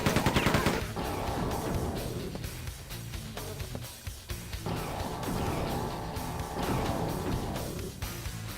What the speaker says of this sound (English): just doing the quick fire on the chain gun